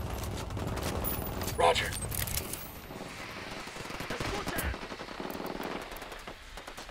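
Video game gunfire rattles in sustained automatic bursts and dense volleys through most of the stretch, fairly close and loud, while a voice speaks briefly over the shooting.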